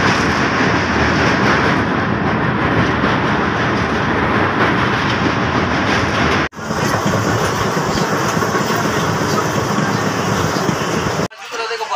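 Train rolling across the Farakka bridge, a loud, steady rumble of wheels and carriages close by, continuing with only brief drops in level, no voices.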